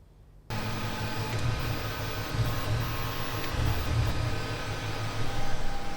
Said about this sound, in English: sorry about the printer noise